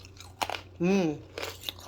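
Sharp crisp crunches and snaps of freeze-dried jackfruit being bitten, broken by a brief voiced sound in the middle.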